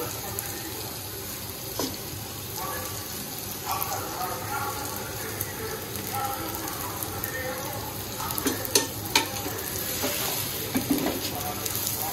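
Rice for chicken tehari being stirred and fried in a pan, with steady sizzling broken by scraping stirs and light clinks of a utensil.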